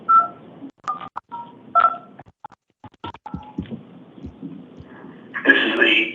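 Telephone keypad tones being dialed, a quick series of short beeps with irregular gaps over a low background hum, then a louder burst of sound at the end.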